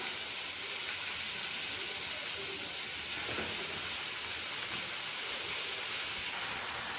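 Drumstick leaves frying with browned onions in a pan for murungai keerai poriyal, a constant loud hissing sizzle that runs unbroken, with no talk over it.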